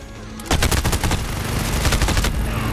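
Rapid bursts of automatic fire from a gold PP19 Bizon SMG in the video game Modern Warfare, loud and close, running in dense rattling volleys for most of the stretch.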